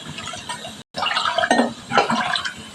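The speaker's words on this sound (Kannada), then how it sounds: "4 ಲೋಟ ನೀರು ಹಾಕ್ತಾ ಇದ್ದೀನಿ" Four glasses of water are poured into a pressure cooker holding rice and ginger-garlic paste for jeera rice, a close, steady splashing gush with one brief pause before it resumes.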